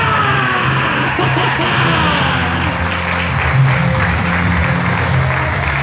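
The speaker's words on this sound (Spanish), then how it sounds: "Denle un fuerte aplauso al Padre." A church congregation applauds the pastor during a sermon, a loud, continuous wash of clapping over a steady low hum and tonal background, with cheering mixed in.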